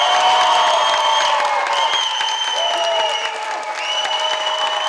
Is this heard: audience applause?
yes